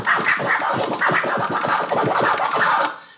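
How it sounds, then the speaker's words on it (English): DJ flare scratch on a vinyl record, the disc pushed back and forth while the crossfader clicks, producing a rapid, continuous string of choppy, stuttering scratch bursts, loud and close with no talking. "the flare scratch would sound like this"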